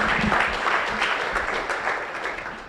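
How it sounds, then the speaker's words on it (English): Audience applause for the Greater Guyana Initiative at its signature project launch: a full room clapping steadily and fairly loudly, tapering a little toward the end. "So I'd like for everyone to give a round of applause to GGI for doing things like these."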